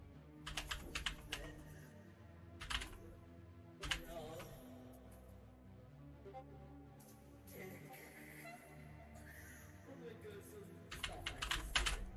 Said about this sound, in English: Keyboard click.